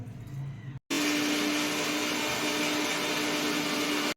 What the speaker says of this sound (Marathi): सो फ्रेंड्स आता आपण हे मिक्सरला बारीक करून घेतोय